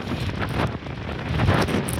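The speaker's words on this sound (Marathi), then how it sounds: "आणि भयंकर वारा आहे" Strong wind gusts across the hilltop at Salher Fort in Maharashtra, blasting the microphone with a loud, roaring rush that swells and eases without a break.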